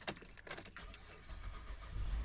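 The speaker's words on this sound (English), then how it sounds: "And the car starts and runs." A 2011 Chevy Traverse that had a no-start fault from a broken wire, with a key jangling and clicking, then the engine catching and settling into a low, rising rumble. The sound is close and there is no talk.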